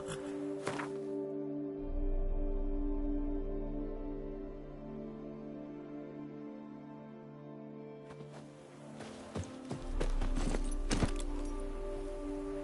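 Horse hooves clip-clopping in The Witcher 3 Blood and Wine, a steady rhythmic gait under a droning game score, with a brief pause in the middle before the hoofbeats resume.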